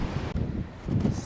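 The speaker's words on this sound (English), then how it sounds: "It's pretty windy today" Wind gusts buffet the microphone outdoors on a snowy winter day near a greenhouse, a low rumbling rush that swells and dips across the short stretch.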